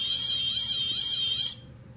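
Arduino-driven buzzer sounding a steady, shrill electronic tone with a slight warble for about one and a half seconds, then cutting off abruptly, close and alone.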